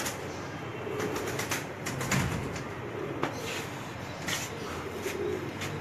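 Red Label breed pigeons in a Lahore loft give soft cooing and bursts of wing flapping over a steady background hiss, close by and fairly faint.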